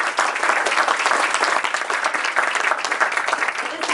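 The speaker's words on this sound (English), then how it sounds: "Round of applause for all of his accomplishments." Steady, dense applause from an audience at a military retirement ceremony for a sergeant first class, filling the room evenly for several seconds without a break.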